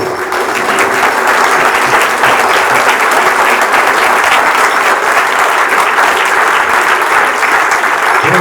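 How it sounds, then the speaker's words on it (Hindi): A standing audience at a classical music program applauds a visiting singer-poet, a loud, dense, continuous wash of clapping that holds steady from start to finish. "एक बार सब लोग खड़े होकर के तालियों के साथ अभिवादन करें"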